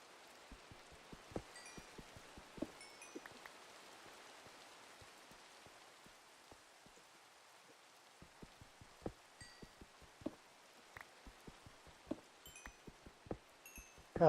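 Rain in Minecraft falls as a soft, steady hiss, with scattered sharp drip-like ticks and a few faint high game tones popping up over the quiet background.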